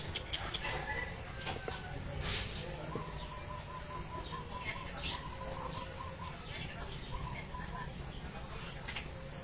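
A chicken clucks in short, repeated phrases at moderate distance, with steady background noise and occasional voices in a rural setting.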